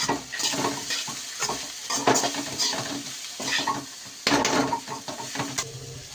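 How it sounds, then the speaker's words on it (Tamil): Broccoli and chicken sizzle in a pan while being stirred, with a utensil scraping and clattering against the metal in irregular bursts, close by and fairly quiet, with no talking. "இப்போ நம்ம நல்லா கிண்டி விட்டு வதக்கி விட்டுருலாம்"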